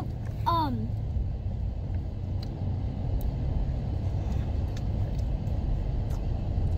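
Steady low rumble inside a moving car, heard from a seat in the cabin, with a brief rising chirp near the start and no talking.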